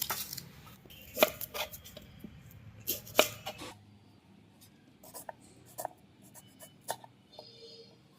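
Green chillies chopped into pieces with a knife: irregular crisp taps and clicks, close and fairly quiet, in bursts with pauses and no talking.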